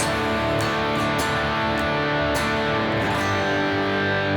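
Heavy, distorted electric guitar power chords ring out loud and sustained, shifting to a new chord every half second or so with no voices.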